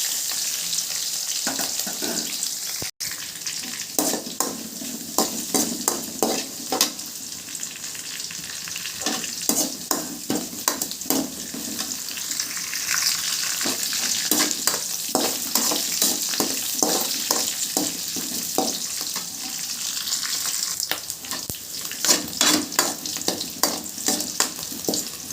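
Crushed garlic sizzles hard in hot oil already crackling with mustard seeds, fennel, curry leaves and green chilli for a bottle gourd kootu, with steady frying hiss and repeated scraping stirs throughout.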